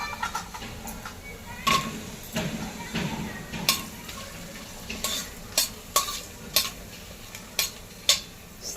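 Cardamom, whole spices and cashews sizzle in hot oil in a pan for pea pulao, with a continuous crackle and a series of sharp scraping stirs at irregular intervals, close up.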